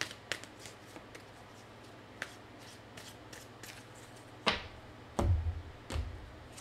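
Tarot cards shuffled and handled during a French-language reading, giving a soft steady riffling texture with scattered sharp snaps and slaps, the loudest bursts near the end.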